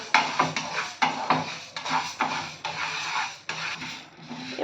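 Urad dal frying and being stirred in a hot pan, with repeated scraping and clinking strokes of a utensil against the metal over a steady background sizzle, close and moderately loud, with no talking.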